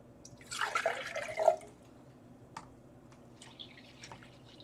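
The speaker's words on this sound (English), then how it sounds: "And I'm rinsing out some of these other jars." Water splashing and trickling while jars are rinsed out during dyeing, a fuller gush early on that fades into scattered faint drips, heard close and alone.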